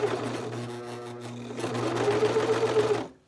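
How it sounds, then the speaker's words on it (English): A serger overlock machine stitches clear elastic onto the inner waistband of athletic pants, a steady rapid mechanical whirring hum that starts up and then speeds and strengthens before stopping abruptly, close and loud, with no talking. "I'm just gonna start serging."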